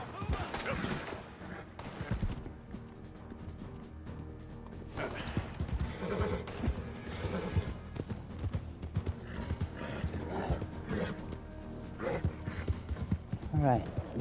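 Horse galloping and neighing in the video game Red Dead Redemption 2, a quick rhythmic clip-clop of hooves with whinnies over it, steady and close, while a player talks.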